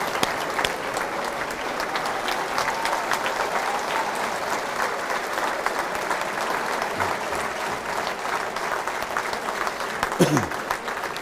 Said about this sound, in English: I really do think we should give our new county councillors a bit of a cheer